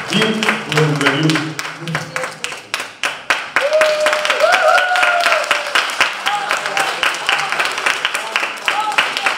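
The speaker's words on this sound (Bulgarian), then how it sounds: "Аплодисменти за тази дама" Concert audience clapping, a mix of individual claps and fuller applause, with some whistling or voices mixed in over the crowd.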